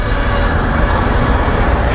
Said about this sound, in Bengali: যানজট ছেড়ে দিয়েছে, মোটরসাইকেল আবার স্টার্ট করলাম